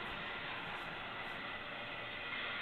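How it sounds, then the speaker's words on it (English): A solid autorack freight train rolls past on the Sioux line through Wisconsin, giving a steady, loud, broadband rumble and rush that holds constant the whole time with no voices over it. "And it's this solid auto rack train."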